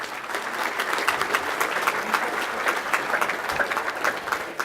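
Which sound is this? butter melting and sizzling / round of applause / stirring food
round of applause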